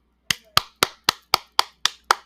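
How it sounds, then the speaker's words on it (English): Eight evenly spaced, crisp single claps or slaps, close and loud, each followed by a short decay, in a quiet room. "Give her a round of applause."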